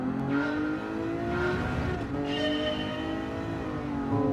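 Car engine revving in Gran Turismo on the Interlagos circuit, a loud close engine tone that climbs and drops through gear changes with a brief tire squeal, and no talking.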